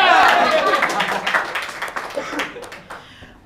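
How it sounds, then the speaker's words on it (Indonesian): Applause from a studio group during a quick-answer party game, a dense burst of clapping that thins into scattered claps over a few seconds, with no speech over it. "Ya bisa sih, tepuk tangan kita."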